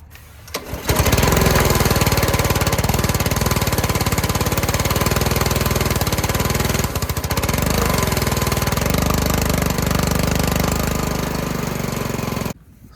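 A dirty-carburetted roadside pressure washer engine runs loud and close with a rapid clattering chug, its note wavering and surging for about twelve seconds before cutting off abruptly.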